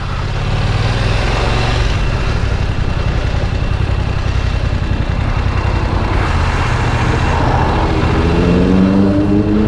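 BMW F900XR motorcycle filtering through traffic, a loud continuous engine drone with steady low rumble and wind noise throughout, the pitch rising slightly toward the end.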